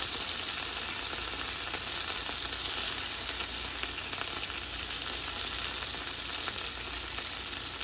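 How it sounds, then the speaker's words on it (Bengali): Sliced pointed gourd sizzles steadily as it fries in a small amount of oil, a continuous, even crackle close by with no voices. "হালকা তেলে সুন্দর পটল ভাজা হয়ে যায়"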